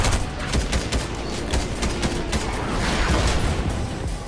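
Dense, continuous gunfire in Fortnite, a loud, heavy barrage of overlapping shots and booms that keeps up throughout with no pause.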